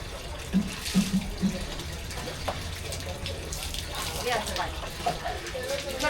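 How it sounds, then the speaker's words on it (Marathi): Someone washes a face with tap water, running water and splashes, with a few distinct splashes early on. Talking continues over the water. "इकडे जरा तोंड व्यवस्थित धू"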